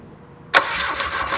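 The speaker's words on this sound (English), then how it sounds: "It's cranking." A boat engine under restoration cranks over after silence, a sudden loud burst followed by a steady, close mechanical churning with rapid pulses.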